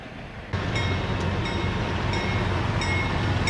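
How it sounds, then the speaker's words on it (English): A BNSF and Norfolk Southern freight train rolls past near Shelby, Montana, on the line up from Great Falls, a steady loud rumble of wheels and cars starting abruptly and continuing without pause, no voices. "This train is pulling into Shelby"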